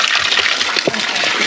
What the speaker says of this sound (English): This is water just coming from the mountain.